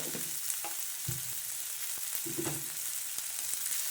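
Tomato and turmeric fry in a pan for potato rice, giving a steady close sizzle with a few soft stirring scrapes and clinks.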